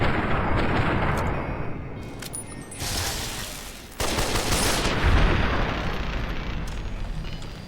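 Heavy .50 caliber rifle fire in the video game Fallout: New Vegas, with loud booming blasts and rumbling roar that swell, break off and return, and no voices.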